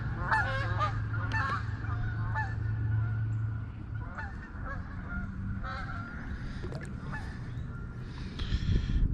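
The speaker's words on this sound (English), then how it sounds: "them damn things been hollering the whole time" Geese honk repeatedly in bursts over steady outdoor background noise at a lake during kayak bass fishing, the calls near and loud at first, then scattered and more distant.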